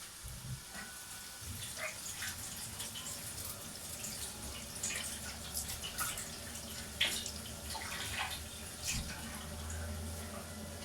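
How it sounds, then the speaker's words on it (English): Hands are washed under a running kitchen tap: a steady, fairly quiet water stream with splashes and small drips while the hands move beneath it, and no speech. "Give my hands a wash."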